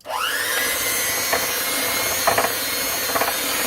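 Electric mixer starting up, whining upward, then running steadily in a bowl of powdered sugar for a pumpkin earthquake cake, loud and continuous, with a few brief rattling knocks of the beaters against the bowl.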